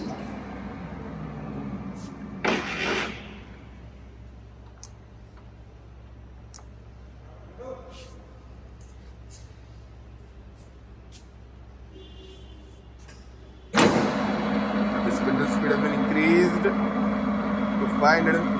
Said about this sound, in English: to 230 rpm. Increase the spindle speed.